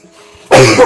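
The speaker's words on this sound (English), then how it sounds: "I've been coughing a lot today" A single sharp, loud cough bursts out after a brief near-silent moment, close to the listener.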